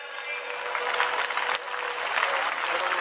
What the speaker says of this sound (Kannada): ಅವರಿಗೆ ಜೋರಾಗಿ ಚಪ್ಪಾಳೆ ತಟ್ಟಿ.